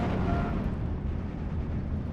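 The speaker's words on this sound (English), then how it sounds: "we're going to see that go up in a fuel explosion" A fuel explosion in the World War II strategy game Steel Division: Normandy 44 rumbles as a dense, heavy roar of low noise, loud and sustained without a distinct single bang, no talk over it.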